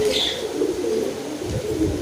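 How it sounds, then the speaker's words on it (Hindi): Low, soft pigeon cooing repeats steadily at close range, with faint bird chirps and background noise around it. "ये रोहान भाई के कबूतरों के साथ चल पड़े आगे।"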